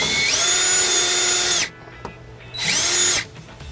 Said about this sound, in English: gonna use this self-tapping screw and our electric drill to connect it